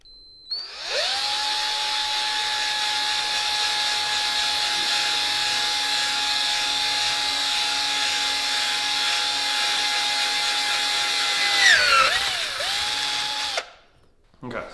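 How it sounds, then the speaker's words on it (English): Power drill drilling out a part on a 2021 KTM 500 EXC dirt bike, a steady loud high whine held for about thirteen seconds, dipping and wavering briefly near the end before cutting off. "Okay, now let's drill out the other side."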